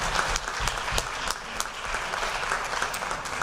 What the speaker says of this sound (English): Patty Steinhoff, so I want to give her a big round of applause as well.